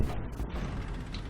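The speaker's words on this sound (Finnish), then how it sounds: "Mä lasket tykki." A cannon mechanism in a video game is lowered, a short close-up mechanical ratcheting creak with clicking gear and pulley sounds, lasting about a second.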